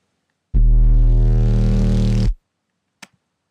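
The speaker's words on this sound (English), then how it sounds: "The bass we're making today is a Neuro bass" Neuro bass patch synthesized in Serum: a single loud, gritty, harmonically dense sustained bass note of about two seconds that cuts off abruptly, followed by a brief faint click.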